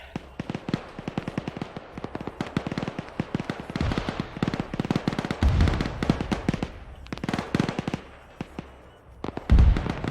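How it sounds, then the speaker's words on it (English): Rapid, dense bursts of artillery explosions and cracking blasts in Arma 3, loud and continuous, with a few heavier booms standing out near the end. "We got huge explosions here in the north side of town."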